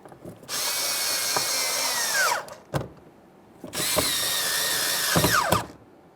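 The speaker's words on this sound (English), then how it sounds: "Go ahead and start them in and snug them up. They're both started, let's snug them up now." A power drill snugs 7mm mounting bolts on a 2015-2020 Ford F-150 interior door, giving two bursts of whirring motor that rise in pitch then wind down, each separated by short clicks and a brief pause.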